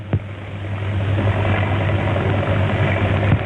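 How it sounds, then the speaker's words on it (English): A 1932-era propeller airplane in trouble drones low and steadily as it comes in for a forced landing, a loud, continuous engine hum with a sharp knock at the start. "The plane's in trouble. He's going to make a forced landing."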